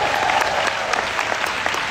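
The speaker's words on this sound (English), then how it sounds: "So give yourselves a round of applause for that." An audience applauds at the MyPeakChallenge Gala 2022, a dense, even clapping from a crowd that holds steady for the full two seconds.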